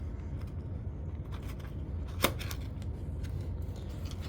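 Scissors cutting into packaging while unboxing an engine part, a few faint snips and rustles with one sharper cut midway, heard close up without talk.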